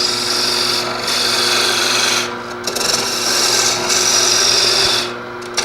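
A wood lathe cuts away waste wood from the outside of a tulip-shaped vessel, a continuous close rasping scrape with steady motor hum and brief pauses between passes.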